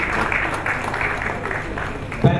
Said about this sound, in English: appreciate him with another round of applause